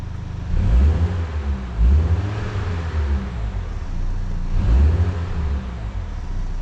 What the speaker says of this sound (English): You just hear the turbo whistling away there.